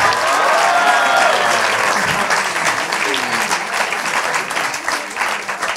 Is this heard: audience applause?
yes